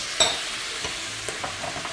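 Split chili, clams and shrimp hit a hot pan with shallots and lemongrass, giving a steady close sizzle broken by a few soft stirring knocks and clinks.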